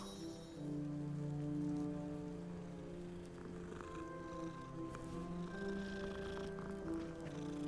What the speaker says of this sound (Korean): 고양이 말 걸고 갑시다.